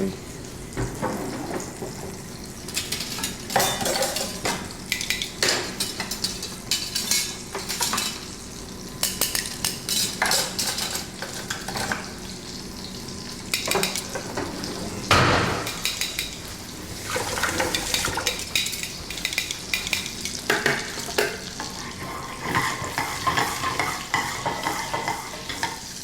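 Food stir-fried over an open flame in a pan with a little garlic, a steady loud sizzle with repeated scraping and clanking of utensil on metal that continues throughout.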